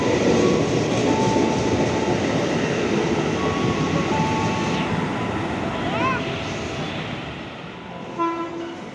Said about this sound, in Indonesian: Nah, ini dia kereta yang kita tunggu-tunggu teman-teman.